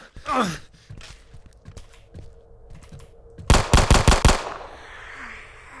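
Gunfire in the horror game Who Knocks: a rapid volley of five or six loud, evenly spaced shots rings out after a stretch of quieter clicks and rustling, followed by a fading tail.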